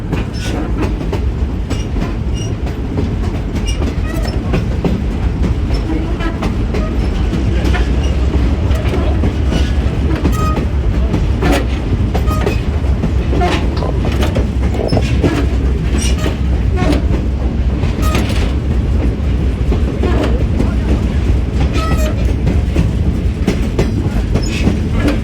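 An EMD FP7 locomotive rolls past on the Verde Canyon Railroad near Clarkdale, Arizona, its steady low rumble and rhythmic wheel clatter filling the scene loudly and continuously for the full stretch.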